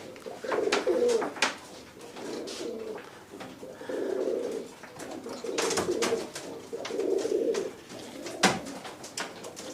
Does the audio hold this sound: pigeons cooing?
yes